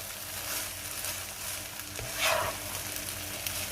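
Cauliflower fried rice is tipped into a hot pan and stir-fried, making a soft, steady sizzle with a brief louder rustle midway, faint and close, with no voices.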